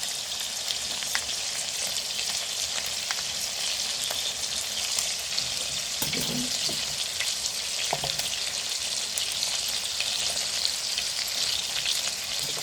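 Steady, close frying sizzle from chicken stir-fry for a spicy rice bowl as two spoons of sugar are stirred into the hot pan, with a few brief scraping touches midway; no talking.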